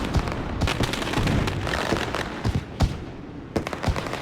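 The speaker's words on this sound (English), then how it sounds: "There's the fireworks." Fireworks burst in celebration after a race win, several sharp bangs and pops spread unevenly over a steady background roar of a crowd or outdoor noise.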